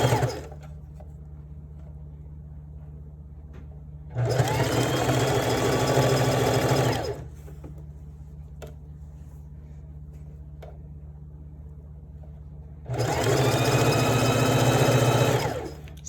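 A sewing machine sews a one-piece garment in two loud sustained runs of whirring, clattering stitching, each lasting a few seconds, separated by a low steady motor hum and quiet gaps.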